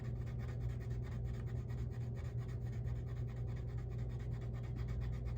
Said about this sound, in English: You can maybe tell by the sound when I'm swatching these out how smooth these ones are.